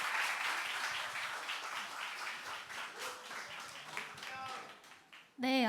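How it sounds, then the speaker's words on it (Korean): An audience at a Seoul book concert claps to welcome two musicians before their first performance. Steady, moderate applause fills most of the stretch and fades out, with a voice starting to speak right at the end. "여러분 큰 박수로 모시면"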